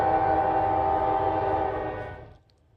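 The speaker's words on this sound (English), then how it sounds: "Norfolk Southern was back again with a couple of AC-44s working hard to pull this grain train." Norfolk Southern grain train hauled by a pair of AC-44 locomotives working hard: a steady tonal horn-like drone with rumble underneath that holds for about two seconds, then cuts off and fades to quiet.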